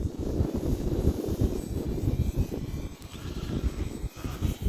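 Hobbyzone Carbon Cub S 2 1.3m RC plane flying at quarter to half throttle in strong wind, a steady low engine drone mixed with heavy gusting wind buffeting the microphone throughout.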